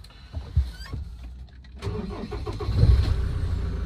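A 2010 Land Rover Defender 90 County with the TDCi diesel engine cranks over and catches at around two seconds, settling into a steady, close idle after a few quiet clicks and thumps.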